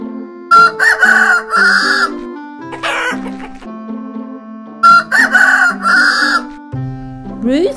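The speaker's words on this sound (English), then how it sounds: "Rooster." Animated cartoon rooster crowing twice, each a loud, drawn-out cock-a-doodle-doo, close and clear, with softer clucking and cartoon sounds between the calls.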